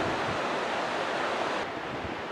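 River flowing right across from a gold rush cemetery in Skagway, a steady, loud broadband rush of moving water with wind-like hiss and no pauses.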